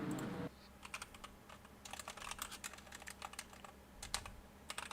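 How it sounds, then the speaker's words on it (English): Computer keyboard keys clatter in quick irregular bursts, close and moderately loud, with short pauses between runs of typing over a steady low background hum. "Chris is typing right now."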